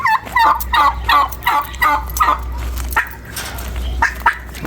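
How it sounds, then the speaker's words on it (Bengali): Domestic geese in a flower garden in Saudi Arabia give a loud run of repeated nasal honks close by, a pause, then a few more calls. "আমাদের দেশে রাজাহাঁস সৌদি আরবও আছে"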